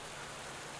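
Steady rainfall during a race in the cycling game Pro Cycling Manager 2020, a faint, even patter and hiss with no other sounds.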